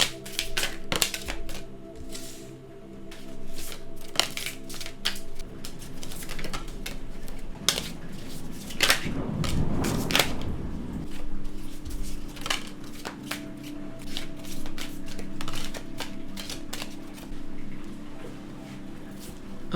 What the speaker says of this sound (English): I'm going to start shuffling the deck